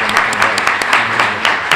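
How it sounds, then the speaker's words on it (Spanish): Audience applause after a lecture at a conference, heard as brisk, close clapping from a modest crowd in short irregular bursts. "Y un aplauso para él."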